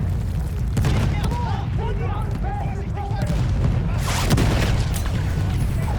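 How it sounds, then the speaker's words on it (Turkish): Bomb explosions and gunfire in the World War I shooter Battlefield 1, a dense rumbling barrage with repeated booms and a stronger blast near the end, with players talking over it. "Lan bomba. Bomba."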